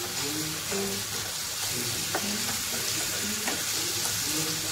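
A soaked ingredient sizzles and fries steadily in a pan over a high flame, with continuous crackling and occasional stirring scrapes, loud and close, with no talking.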